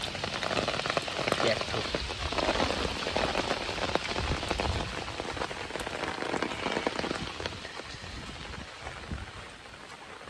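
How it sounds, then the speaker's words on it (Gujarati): Heavy rain pours steadily onto surfaces, driven by strong wind, a loud and continuous dense hiss of drops throughout, with a brief word spoken faintly under the downpour. "ભારે પવન સાથે વરસાદ."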